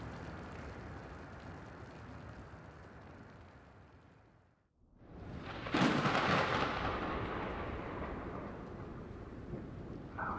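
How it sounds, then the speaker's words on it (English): A raging thunderstorm in the video game The Invincible: a dense, steady roar of rain and wind dips to near silence, then a loud thunderclap bursts and rumbles on. "The storm's raging."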